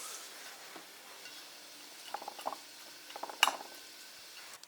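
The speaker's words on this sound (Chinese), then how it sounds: "辣椒面放一点，淋上热油" Hot oil poured over chili powder fizzes and crackles in brief bursts, with a sharp sizzle near the middle against a quiet kitchen background.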